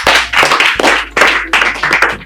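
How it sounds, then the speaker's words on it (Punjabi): A small group claps in bursts, several people clapping loudly and close together in uneven rhythm, with brief pauses between flurries. "ਸੋ ਤਾੜੀਆਂ ਲਾਓ ਵੀ ਪਹਿਲਾਂ"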